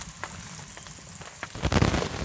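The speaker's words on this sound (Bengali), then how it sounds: "কাঁচামরিচ, পেঁয়াজ, রসুন, তেল একসাথে একটু ভেজে নিচ্ছি।" Green chilli, onion and garlic fry together in oil for masoor dal khichuri, giving a steady soft sizzle that swells louder and fuller near the end, with no voices.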